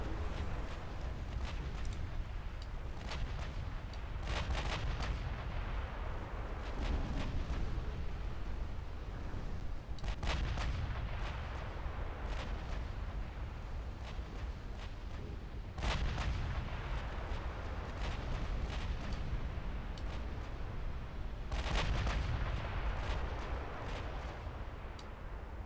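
Warship secondary guns in a naval combat game fire sharp booming shots at irregular intervals over a constant low battle rumble, moderately loud and without speech.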